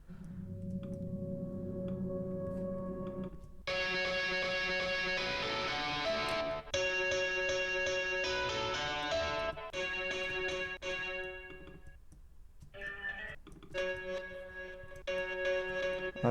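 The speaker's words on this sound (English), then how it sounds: "so it's going to take that acoustic guitar and make it sound electric." Acoustic guitar run through a guitar amp simulation so it sounds like an electric guitar, playing sustained chords and picked notes alone, steady and fairly loud, with brief pauses near the end.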